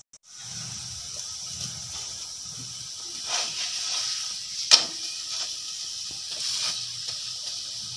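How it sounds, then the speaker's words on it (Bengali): A thick paratha fries slowly in a pan over low flame, giving a steady, soft hiss and sizzle with a few brief louder crackles and pops, close by and with no voices. "এটা একটু লো ফ্লেমে রেখে আস্তে আস্তে ধীরে ধীরে ভেজে নিতে হবে"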